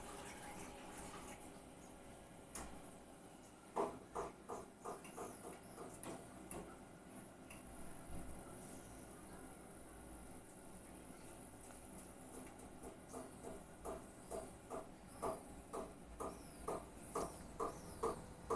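Repeated knocking from the heat exchanger of a Navien Ace-35k Turbo gas boiler with hot water running, coming in faint, evenly spaced bursts of clicks and taps over a low background hum.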